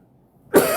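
A single sharp cough bursts out after a brief near-silence, close and loud, with no talking around it.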